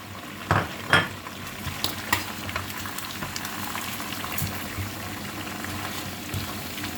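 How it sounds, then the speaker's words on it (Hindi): Garlic and ginger fry in a karahi for chicken karahi, a soft continuous sizzle punctuated by a few sharp clinks and scrapes of a spoon stirring against the metal pan. "मैं इसमें पहले डालती हूँ लहसुन और फिर अदरक डाल के इसको थोड़ा सा मिक्स करती हूँ।"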